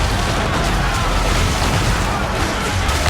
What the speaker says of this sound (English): since we've recently upgraded the mortar, let's use it to take out the fort towers